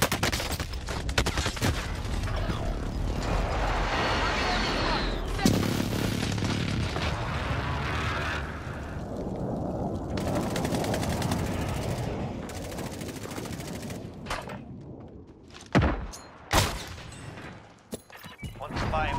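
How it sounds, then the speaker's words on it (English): A precision airstrike in a video game, a long continuous barrage of rapid gunfire and explosive booms with voices over it, ending in a few sharp separate blasts. "Precision airstrike"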